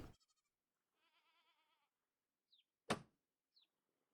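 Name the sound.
baby goat bleating in a video game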